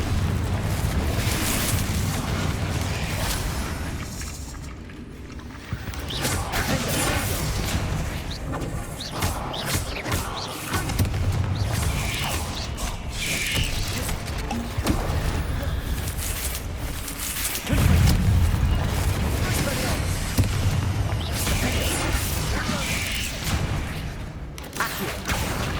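Confringo fire spells cast in a Harry Potter video game, producing a dense, continuous barrage of loud booming explosions and bursts layered over whooshing effects and game ambience.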